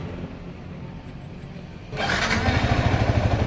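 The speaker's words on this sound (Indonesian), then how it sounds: "nyalakan mesin." A Yamaha Xabre motorcycle engine starts after a quiet moment, then settles into a steady, close, rhythmic idle lasting to the end.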